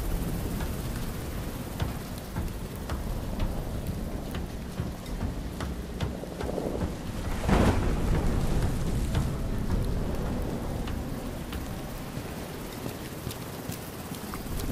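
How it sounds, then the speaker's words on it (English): Heavy thunderstorm on a ship at sea in a video game: loud, steady rain pours down throughout, with a rumbling thunder surge in the middle and scattered sharp drips and knocks. "Imagine being on this ship with this storm going on."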